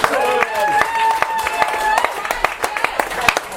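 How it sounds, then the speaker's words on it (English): Wedding reception guests clapping after a speech, scattered sharp claps that repeat unevenly and come close, mixed with voices and crowd chatter. "let's give a big round of applause for Roy"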